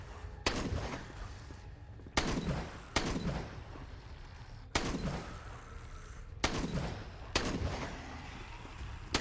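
Loud shotgun blasts from Dead Frontier 2, six heavy booming shots spaced roughly a second or two apart, each with a short decaying tail, no talking.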